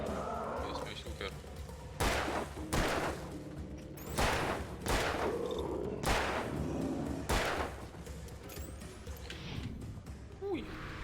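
Gunshots and a grenade blast sound in the Alan Wake video game, arriving as several sharp, spaced-out bangs over a low background, with someone talking between them.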